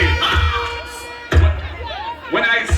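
A massive crowd at a nighttime PNP political rally in Morant Bay, St. Thomas, erupts in loud bursts of cheering and shouting, with whoops rising in two or three big swells.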